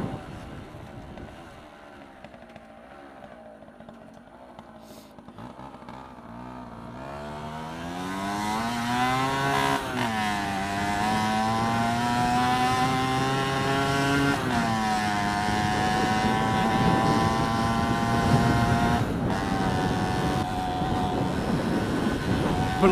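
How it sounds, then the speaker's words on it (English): A 1973 Yamaha FS1E 50cc moped rides along a road, its small engine note rising and falling through gear changes as it accelerates, steady and close throughout with no talking. "It's essentially a push bike with a 50cc motor strapped to it."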